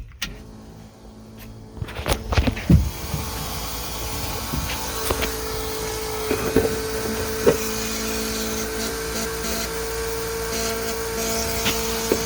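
An inexpensive electric fuel pump runs on an 1986 Chevy Silverado with a 350 Vortec, making a steady whining motor hum. A few knocks and clunks come early on, then the whine continues alone at moderate volume.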